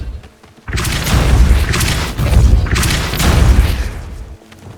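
Forceful Depulso spell blasts from Hogwarts Legacy, a quick run of several heavy booming thumps close together, loud and alone with no talk.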